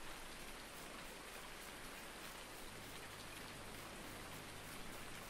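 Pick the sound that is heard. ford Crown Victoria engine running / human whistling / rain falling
rain falling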